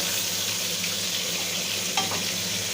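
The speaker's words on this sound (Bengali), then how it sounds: "তেলটা গরম হয়ে গিয়েছে। এবার আমি মাছগুলো দিয়ে দেব।" Hot oil sizzles and crackles steadily as small fish fry, a constant bright hiss close by with a faint clink near the end.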